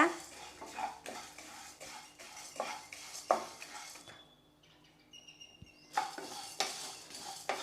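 Tea masala spices dry-roasting in a pan over low heat, with brisk scraping and rattling stirs against the metal, a short pause with faint chirps in the middle, then more stirring.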